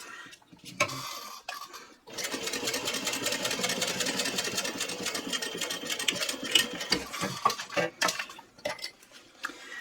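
A sewing machine sews a backpack seam near webbing, with a short start, a long steady mechanical whir running several seconds, then choppy stop-start stitching.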